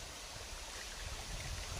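A waterfall at a rural sitio pours steadily, a soft, even broadband rush with deep low rumble, distant and continuous without voices.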